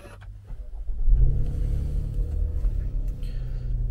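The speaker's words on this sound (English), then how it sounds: "Let's get this car started up." A 2018 Holden Calais with about 126,000 km is started from inside the cabin, a brief cranking followed by the engine catching and settling into a steady, close idle rumble.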